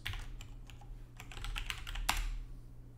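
Typing on a computer keyboard, a quick run of close, crisp key clicks with one sharper tap near the end.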